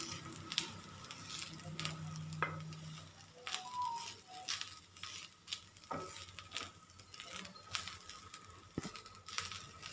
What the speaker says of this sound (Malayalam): തേങ്ങ നന്നായിട്ടൊന്ന് ഒരു ഗോൾഡൻ ബ്രൗൺ കളർ ആവുന്നത് വരെ ഒന്ന് എണ്ണയിലൊന്ന് വറുക്കണം.